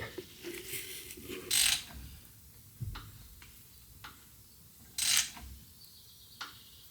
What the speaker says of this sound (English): Let's start rotating this crank.